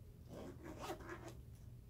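The zipper on a carrying case, fitted with white zipper pulls, rasps in a few quick, close, quiet strokes with no talking.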